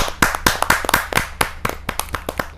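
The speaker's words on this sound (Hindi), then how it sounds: "मैं जोरदार तालियों के साथ डॉक्टर बलजीत कौर तन्हा जी का हार्दिक स्वागत" Audience at a Hindi kavi sammelan poetry gathering applauding to welcome a poet, with sharp, fairly close hand claps in an uneven burst that keeps going throughout.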